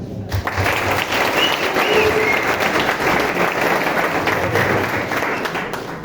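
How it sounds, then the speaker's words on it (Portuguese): Audience applause in a round-table session at a CENAM 2023 seminary event, farewelling the guests; dense, steady clapping from a full room that holds for several seconds before easing off slightly. "nos despedindo dos nossos convidados com palmas"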